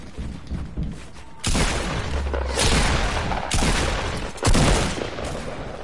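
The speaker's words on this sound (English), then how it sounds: "I hear a lot of shotgun shots going off." Shotgun fire in a PS4 video game, a dense run of heavy booming blasts over several seconds, loud and close with overlapping reports and no talk.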